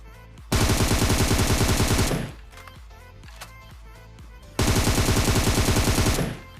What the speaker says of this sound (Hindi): भाई फिर से किसी पे फायरिंग कर रहे हैं